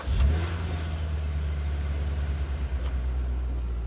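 A new Mercedes S500 engine starts and revs, a loud close low rumble that swells at the start then settles into a steady throaty idle with slight fluctuations.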